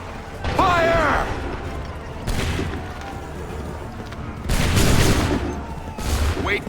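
Musket volleys ring out in the game Assassin's Creed III Remastered, four loud crackling bursts spaced a second or two apart, with a shouted voice between them.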